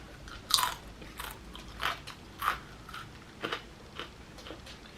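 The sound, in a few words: dog crunching and eating food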